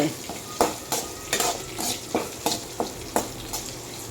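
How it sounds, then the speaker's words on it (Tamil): Green chillies fry in oil in a pan for a dry tuna fish podimas, a steady sizzle punctuated by regular, close scraping strokes of a stirring spoon. "எப்பயுமே பச்சை மிளகா எண்ணெயில் வதங்கிட்டால் காரம் அப்படியே செட்டில்ட் ஆகிடும்"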